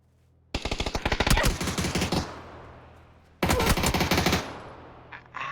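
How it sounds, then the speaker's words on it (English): Rapid automatic gunfire from a first-person shooter game, two long loud bursts of closely spaced shots separated by a brief lull, with a faint tail of more shots after the second burst, no talking. "How is he shooting you through smoke?"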